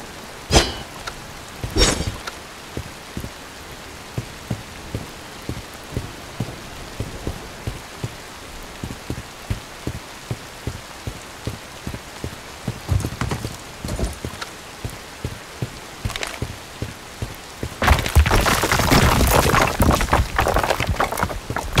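Rain falls in the Bright Memory: Infinite game, a soft steady patter broken by regular thudding footsteps, with a harsher, louder wash of rain or wind surging near the end; no one speaks.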